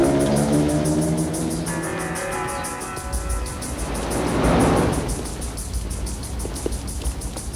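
A car idles and then backs up at low speed, its engine a steady low hum that swells briefly in the middle, heard at moderate distance without speech.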